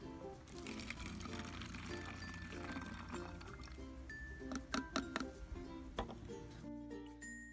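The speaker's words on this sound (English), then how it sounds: "pour a 1/2 cup of your hydrogen peroxide into the water bottle" Half a cup of hydrogen peroxide poured into a water bottle for an elephant toothpaste experiment, a faint, quiet trickle of liquid with a few light clinks near the end.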